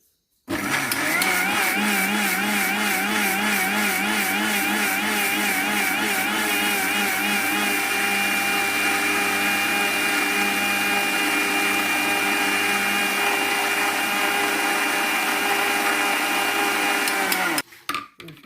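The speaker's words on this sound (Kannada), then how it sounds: "ಇದನ್ನು ಮಿಕ್ಸಿಯಲ್ಲಿ ಕಾಯಿ ಹಲ್ತಕ್ಕತ್ತೆ" A kitchen mixer grinder runs steadily for about seventeen seconds, grinding grated coconut with water for coconut milk, its loud motor whine and churning holding constant before cutting off near the end.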